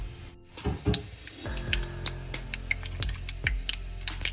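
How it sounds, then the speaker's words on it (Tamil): Mustard, fennel and fenugreek seeds dropped into hot oil for a carrot and chilli milk curry: a steady frying hiss with rapid, crackling pops and spits close by. "எண்ணெயை சேர்த்துட்டு கடுகு பெருஞ்சீரகம் வெந்தயம் கொஞ்சம் சேர்க்க போகிறேன்"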